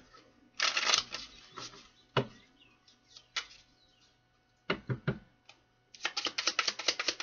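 Tarot cards being shuffled and drawn, with bursts of crisp riffling and flicking separated by short pauses and single sharp card snaps, close and fairly quiet with no talking.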